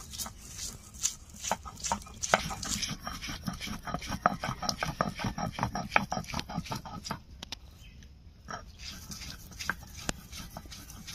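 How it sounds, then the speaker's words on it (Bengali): Spices ground by hand on a Bengali stone slab, the shil-pata, after being fried for a green banana peel mash, making a quick run of rhythmic scraping strokes close up that thin out near the end. "আমি শিলপাটায় বেটে নিচ্ছি"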